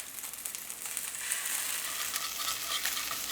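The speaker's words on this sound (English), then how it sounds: "So you want that high heat to give it a nice sear in a short amount of time so we can get that color without overcooking the fish." A salmon fillet sears over high heat in a hot pan, giving a steady, close hiss of sizzling oil that swells a little louder partway through and then holds without talk.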